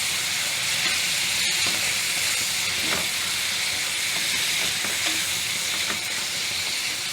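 Tomatoes hit hot masala in a pan over a low flame while a jackfruit-seed curry cooks, giving a loud, steady, close sizzle and hiss with faint stirring clicks and no voice.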